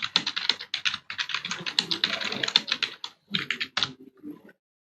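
Fingers typing on a computer keyboard, fast clusters of crisp close key clicks with short pauses between bursts, ending in silence, no voices.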